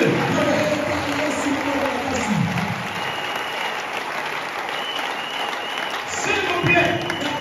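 A church congregation applauds continuously through a worship service, a steady wash of clapping from a large crowd with voices mixed in throughout.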